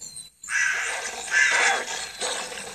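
Crows cawing in The Wolf video game, a harsh continuous scratchy cry with a couple of swelling bursts after a brief gap, fairly loud and close with no talk.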